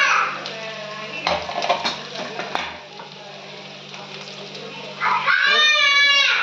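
Ivy gourd frying in a pan with turmeric and chili powder, a low sizzle with a few stirring clanks and scrapes of a utensil, while someone talks over it and a voice briefly joins near the end.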